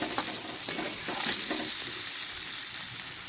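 Spiced potato curry sautéing in oil in a pan for an old-style Bengali dish, a steady close sizzle with scattered soft scraping stir strokes, no voices.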